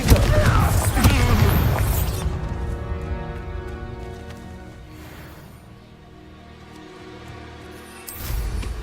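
Confringo blast spell going off in Hogwarts Legacy, a loud booming explosion with crackling debris that rolls off into a long rumbling decay, then another burst at the end.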